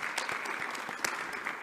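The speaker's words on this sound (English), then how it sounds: "Can we clap hands for the minister?" Applause from a press briefing audience for a minister, steady clapping from many hands at moderate distance, filling the short moment without talk.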